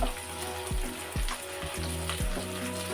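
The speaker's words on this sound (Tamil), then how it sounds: "இந்த மாதிரி நல்லா எண்ணெயிலே நல்லா சின்ன வெங்காயத்தை அப்படியே வதக்கிடணும்" Small shallots and garlic sauté in sesame oil for a traditional vatthal kuzhambu, a close, steady frying hiss broken by a few sharp stirring scrapes.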